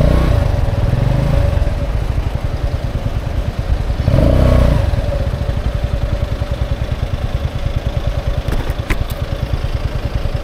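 A Kuba TK03 motorcycle engine running after a carburetor replacement, a loud close rapid thumping idle with a short rev swell midway, then settling back to a steady chugging beat.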